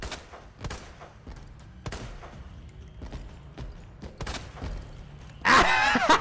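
Scattered video game gunshots fire in irregular bursts, mostly moderate in level, ending in a loud, harsh blast near the close, with no clear talk over them.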